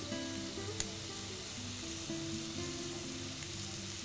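Ginger added to a hot pan after onions and garlic, a steady close sizzle with one small tap of a utensil, even and unbroken.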